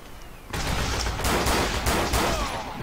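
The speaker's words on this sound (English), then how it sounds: "I don't know where that machine gun is exactly." Dense machine gun fire and battle noise from the World War II shooter game Forgotten Hope 2 on the Meuse River map, a loud continuous rattle of overlapping shots filling the whole span after a quieter start.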